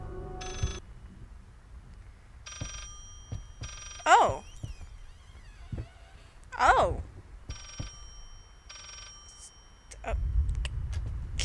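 An old telephone rings in the horror video game Layers of Fear: repeated bursts of ringing at moderate volume, separated by pauses, with eerie cries between them and a brief spoken exclamation.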